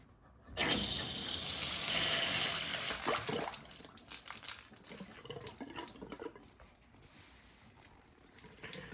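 Water rushes out of a drain valve on a shut-off fire sprinkler system, a loud steady gush that starts suddenly, holds strong, then eases into a lighter, uneven trickle.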